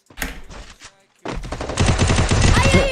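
Rapid bursts of Garena Free Fire gunfire: a quick volley, a brief pause, then sustained automatic fire, loud and close.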